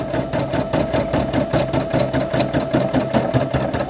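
A Brother PE800 embroidery machine stitches out a patch with a rapid, even mechanical chatter, a fast regular needle rhythm with a steady hum underneath, close and continuous.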